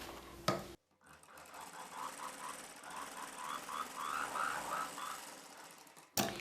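A sewing machine stitches lining and blouse fabric up toward a long blouse neckline, a close, even run of rapid stitching that lasts about five seconds between short pauses.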